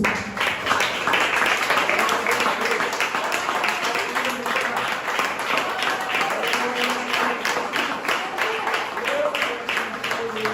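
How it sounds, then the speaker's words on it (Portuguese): Congregation at a Brazilian church service applauding, dense steady clapping throughout with voices speaking and singing over it. "Só você que pode aplaudir o nome santo do Senhor Jesus"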